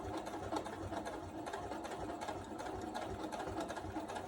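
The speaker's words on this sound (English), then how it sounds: "We're gonna back stitch always, and then we're gonna go back all the way across" A sewing machine runs steadily while back stitching across a hair bow, a dense continuous mechanical whir close by with no pauses or voices.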